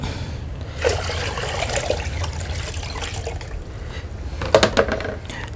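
Water pours and trickles into a basin being filled for moving a guppy brood, a steady close splashing with a few sharper gurgles near the end.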